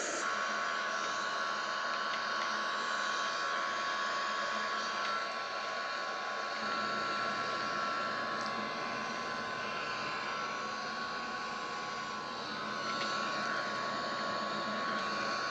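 Airbus A330 engines in Microsoft Flight Simulator give a steady broadband jet roar, even and sustained throughout, with a slight shift in tone partway through and no talking.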